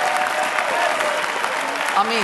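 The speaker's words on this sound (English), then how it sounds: "Come on, you can clap for that one." Steady applause from a large church audience fills the clip while a voice speaks over it.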